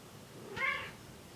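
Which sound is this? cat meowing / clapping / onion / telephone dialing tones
cat meowing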